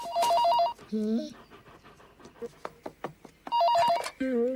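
An old-style telephone bell rings in two loud trilling bursts at the start and again later, separated by quieter clatter and breathing sounds.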